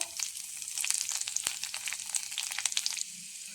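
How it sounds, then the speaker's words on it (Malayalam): Chopped garlic hits hot oil with popped mustard seeds for a Kerala mezhukkupuratti stir-fry, giving a steady close sizzle thick with fine crackles and spits, plus one sharp pop midway. "കടുകെല്ലാം പൊട്ടിക്കഴിയുമ്പോൾ അതിലേക്ക് 3-4 അല്ലി വെളുത്തുള്ളി അരിഞ്ഞത് ഇട്ട് കൊടുക്കാം."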